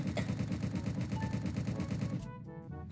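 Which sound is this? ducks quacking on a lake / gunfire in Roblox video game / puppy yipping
gunfire in Roblox video game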